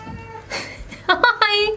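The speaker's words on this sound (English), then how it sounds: "I guarantee he's going to meow at the wall or something." A cat meows twice in quick succession indoors, short rising cries following a softer breathy sound, near and moderately loud, with a person's voice heard just before.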